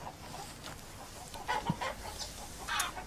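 Chickens on a farm cluck in short, scattered calls over a steady background hiss, and a few louder clucks come close together.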